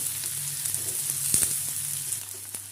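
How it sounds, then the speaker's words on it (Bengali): Sliced onion fries in hot oil in a pan, giving a steady, soft sizzle with occasional small pops and crackles, heard close up and without speech. "এবার এখানে স্লাইস করে কেটে রাখা পেঁয়াজটা আমি ভেজে নেব। পেঁয়াজটা দিয়ে হালকা সোনালি করে ভেজে নেব।"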